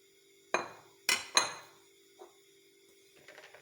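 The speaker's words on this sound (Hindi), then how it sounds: "अब मैं बाउल में सबसे पहले आलू डालूंगी" Boiled potatoes dropped into a bowl while preparing kadhi pakora, giving three sharp clattering knocks close together, then a fainter tap and some light rustling.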